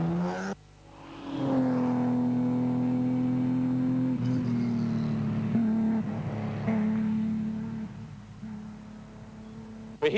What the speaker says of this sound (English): Brian Stokes, the championship leader, starts at number 5 in the big Ford Sierra